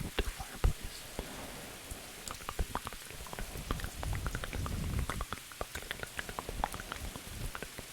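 Soft rain ambience with scattered drops pattering on a surface, a gentle steady hiss broken by irregular ticks and taps, fairly quiet.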